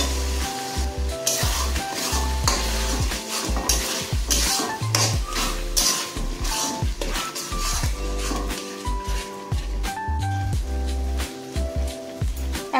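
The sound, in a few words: spice paste frying and being stirred for chicken curry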